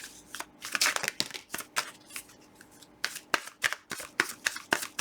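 Tarot cards riffled and shuffled in quick bursts, a crisp papery flutter repeating with short pauses, close up and fairly loud.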